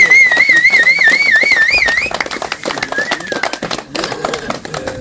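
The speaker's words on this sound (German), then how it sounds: "Unter tobenden Applaus" Applause and cheering at a cod and saithe fishing cup prize-giving in Norway, scattered claps and crowd noise under a sustained whistle-like tone, with a voice speaking over it.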